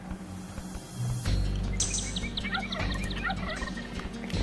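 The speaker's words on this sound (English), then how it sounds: "I hear turkeys gobbling." Turkeys gobble in a quick burst of rapid, warbling calls after a thump, fairly close and loud over a steady background hum, with no voices present.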